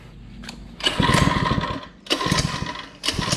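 A Mega Moto 80 minibike with a Predator 79cc engine revs in loud, raspy bursts, rising at about 0.8 seconds, easing off near 2 seconds, then surging again in shorter pulls close to the microphone.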